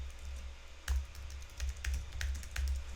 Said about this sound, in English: Okay, I type in my name.